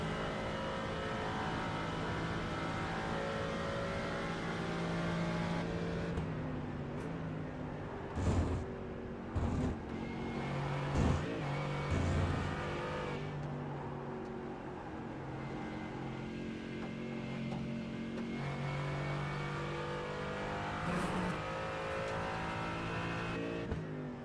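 Mercedes AMG GT4 race car engine in a racing video game at Watkins Glen, a steady loud drone with shifting pitch, occasional sharp gear changes and bursts through a long run.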